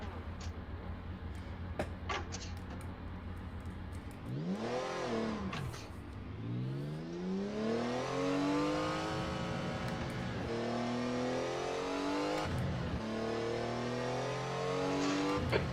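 Porsche 956 Group C race car at Sebring in a racing video game, engine revving loudly and sweeping up through the gears with repeated rising pitch and shift drops, steady and close.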